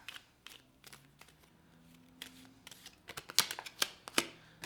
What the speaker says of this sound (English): I'm going to give it 2 more shuffles